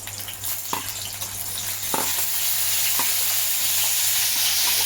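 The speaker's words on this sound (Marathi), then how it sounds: "आपण कांदा टाकून घेणार आहोत आणि कढीपत्ता।" Sliced onion and curry leaves hit hot oil in a kadai, a loud, close sizzle that builds and stays constant, broken by a few sharp spatter pops and light stirring.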